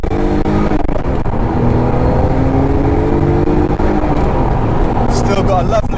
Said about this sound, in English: Still got a lovely turbo wastegate noise on this.